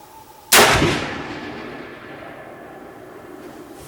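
A single loud rifle shot fired with a test powder load cracks sharply at close range, then rolls off in a long fading echo across open ground.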